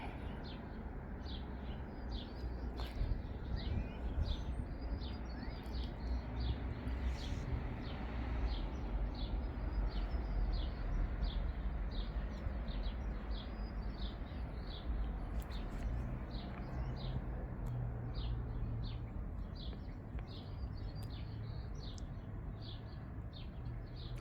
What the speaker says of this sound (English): I love that the birds are tweeting away and singing for us.